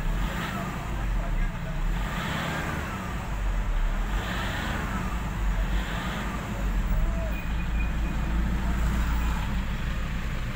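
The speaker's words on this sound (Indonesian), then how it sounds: "Ini dia suara mesinnya." Engine of a 2013 Toyota Grand New Kijang Innova 2.5 G manual, running at a steady idle, a continuous low hum heard close up from start to finish.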